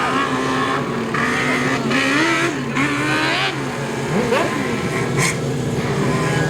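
Several 600A class non-wing race cars at Gulf Coast Speedway roar together in a loud, continuous engine drone, their pitches rising and falling as they rev and pass, with no talk over them.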